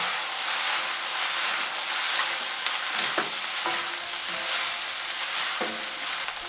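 Shrimp for Chinese chow mien sizzle steadily in a hot pan, a loud continuous frying hiss broken by a few scrapes and clinks as they are stirred, close and without voices.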